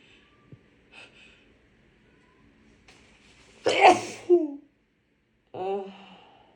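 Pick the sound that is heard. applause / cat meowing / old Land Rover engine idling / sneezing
sneezing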